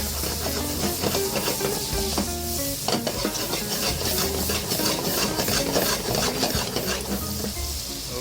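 Soy sauce hits a hot pan of sautéed chicken and mushrooms, setting off a loud, steady sizzle with hissing steam and scraping stirring throughout, close and continuous.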